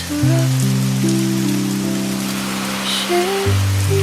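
Stormy rain falls at a seaside cafe as a dense, steady hiss that runs throughout, with sustained soft musical tones layered over it and no voices.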